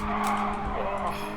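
Car tires squealing and sliding in the Gran Turismo Sport racing game as the car oversteers, a brief loud skid over a droning engine.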